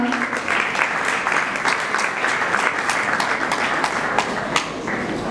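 Audience applause welcomes Kamlesh sir at the inauguration of a Zenyoga foundation in Badlapur, a steady, dense clapping from a hall crowd lasting throughout at an even level.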